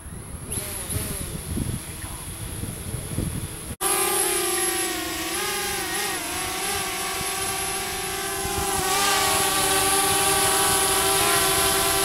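A DJI Spark drone sits outdoors in quiet ambience, then its motors start abruptly into a loud, high-pitched buzzing whine. The whine holds close and steady as the drone lifts off.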